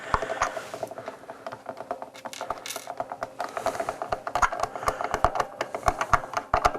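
Screws are refitted on a Squier Bullet Stratocaster guitar, a close, busy stream of rapid clicks and ratcheting taps with small metallic rattles, irregular and continuous throughout.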